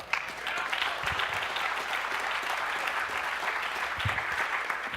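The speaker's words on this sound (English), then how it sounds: "Give a round of applause." An audience applauds after a mind reading trick, with steady, dense clapping that holds evenly for several seconds at a fairly close, full level.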